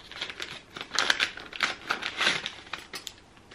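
Wrapping paper on an advent calendar gift is torn open, with close, irregular bursts of ripping and crinkling rustle and no voices.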